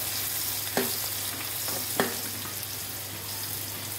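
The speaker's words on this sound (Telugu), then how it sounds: "ఇప్పుడు అవి కొంచెం వేగిన తర్వాత ఉల్లిపాయలండి." Thinly sliced onions fry in a wide pan for a spicy pomfret fish curry, a steady low sizzle with two sharp clicks of a utensil against the pan partway through.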